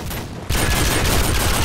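A sustained burst of sprayed automatic gunfire in Call of Duty: Modern Warfare 2 begins abruptly and roars on densely and loudly, with no gaps between shots, close to the listener.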